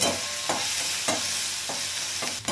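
Onion fries in a pan to a light brown with a dense, loud, continuous sizzle, marked by a few soft scrapes of stirring at roughly regular intervals, close up with no voices.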